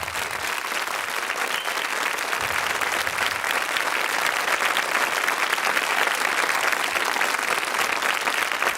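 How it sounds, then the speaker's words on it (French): A television studio audience at the Trèfle d'Or show applauds the production team with loud, steady, continuous clapping that holds at full strength throughout. "je vous demande d'applaudir"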